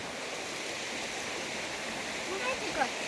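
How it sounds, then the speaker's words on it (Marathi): Water poured over bare feet for washing at a Mahadev temple on a Shravan Monday, a steady running splash with a slight rise near the end. "पायावर पाणी दे, पाय धुवून घेतो."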